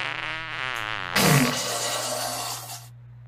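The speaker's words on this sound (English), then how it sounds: "I'm gonna need you to fart directly right in her eye" A cartoonish fart sound effect in an animated comedy plays as a long wobbling, buzzy tone that gives way to a louder, sputtering blast before cutting off abruptly.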